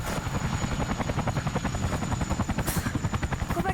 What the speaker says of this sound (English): After some solid parenting, a helicopter shows up and David falls out of the tree